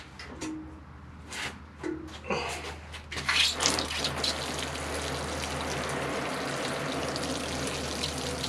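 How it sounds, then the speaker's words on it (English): Water pours steadily over a freshly repotted acer bonsai, starting with a few splashes and drips before settling into a continuous close hiss of water soaking through the soil. "So we'll water it through."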